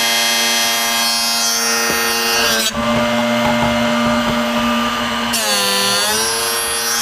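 A Drill Doctor sharpener grinds and splits the tip of a drill bit, a steady high-pitched motor whine with a harsh grinding burst in the middle before the whine returns.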